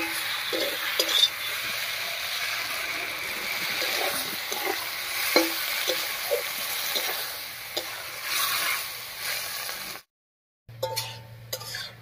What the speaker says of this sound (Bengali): এবারে মশলা বাটা জল দিয়ে খুব ভালো করে কষিয়ে নেব।